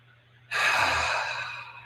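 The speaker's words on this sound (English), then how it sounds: "Breathe in nice and deep." A deep breath is drawn in during guided meditation, one long, close, airy inhale that starts suddenly and fades slowly over more than a second, heard alone.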